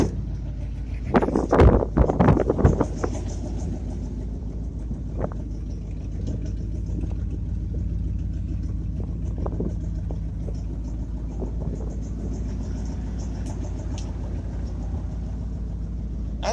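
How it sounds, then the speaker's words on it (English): A Ford F350 truck engine idles steadily with a low, even rumble after a few sharp clanks early on, close by and continuous, with no talking. "There we go, I got the 350 started. Alright, let that run a little bit too."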